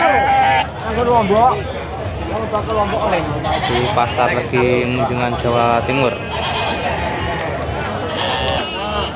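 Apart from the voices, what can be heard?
goats bleating at a livestock market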